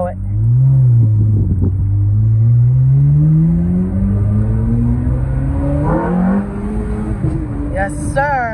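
Ferrari F430 with a Capristo exhaust at full throttle, a loud, close engine howl climbing steadily in pitch through the gears over several seconds, with a voice briefly audible near the end.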